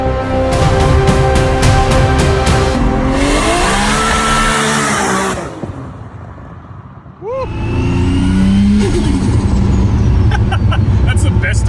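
A modified 30-year-old Nissan Skyline accelerates hard on a test drive, its engine revving loud and close in rising sweeps, easing off briefly mid-run before pulling strongly again.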